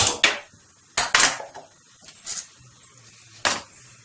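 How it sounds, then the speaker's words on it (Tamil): A few sharp metallic clanks and knocks of a pot being set on a stove, spaced apart over a quiet background, with a soft low hum. "அடுப்பில் இந்த மாதிரி ஒரு பாத்திரம் வச்சு அடுப்பு ஆன் பண்ணிக்கலாம்."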